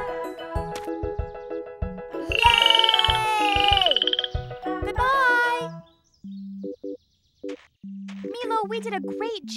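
Cartoon frog croaking in a children's animated show, a run of bright, chirpy croaks and warbling calls mixed with music and sparse electronic tones, fairly loud and close, with a brief voice near the middle.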